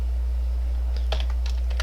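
Keys on a computer keyboard are tapped in a quick, light burst of several clicks, close by, over a steady low electrical hum.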